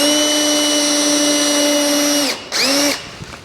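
A power drill drives screws into the wood of a deer stand's wall with a loud, steady motor whine. It stops briefly, then revs up again in a short second burst before falling quiet.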